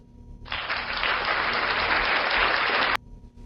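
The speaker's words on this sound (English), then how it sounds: "Excellent shot, and we'll give her applause as well." Steady applause from a crowd at a mixed doubles curling match, starting abruptly after a shot and holding at an even level for about two and a half seconds before cutting off.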